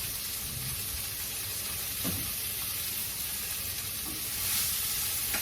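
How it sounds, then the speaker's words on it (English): Shrimp with shells on frying in a pan, giving a steady, soft sizzle of hissing oil with faint crackles and pops throughout, close up and heard alone. "that I'm going to toast in the pan that I've got the shrimp in."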